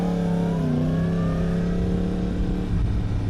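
A car passing on the road, heard from a moving motorcycle, its engine tone sliding in pitch over a constant loud wash of engine and wind noise, with no talking.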